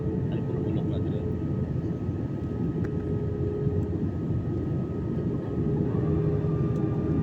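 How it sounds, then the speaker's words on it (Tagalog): Passenger airplane in flight heard from a seat by the wing: a loud, steady engine drone and rumble that holds without a break, with no voices over it. "So umikot pa pala yung eroplano,"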